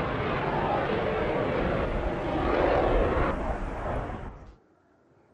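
A BAE Hawk jet aircraft circles overhead, a loud sustained roar that swells slightly, then fades out sharply into near silence at the end.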